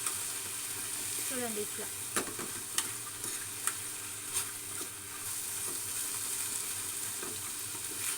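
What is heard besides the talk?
frying and stirring chutney ingredients in a pan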